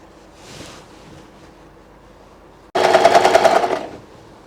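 A sewing machine stitches along the side of blouse fabric in one quick, loud burst of rapid needle chatter lasting about a second and a half, close by, after a quieter stretch of handling.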